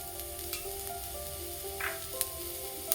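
Curry leaves hit hot oil for a drumstick theeyal and set off a steady, faint sizzle and crackle, with a few sharper pops and light clinks from stirring, and nobody speaking.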